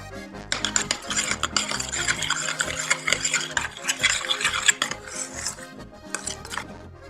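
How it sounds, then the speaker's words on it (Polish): A spoon stirs a potato filling mixed with greens and two eggs in a bowl, giving a steady run of scraping, clinking strokes close up, with no talk. "Wszystko dokładnie mieszamy."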